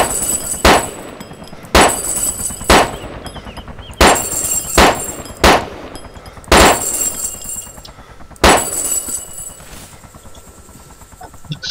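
Gunfire in the video game DayZ, with loud bursts of shots in repeated clusters roughly every second or two against a constant background whine, with no talk.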